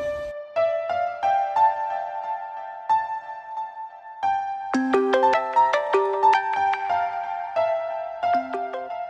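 A melodic electronic ringtone plays alone, a repeating tinkling tune of bright tones that grows busier partway through, steady and fairly loud.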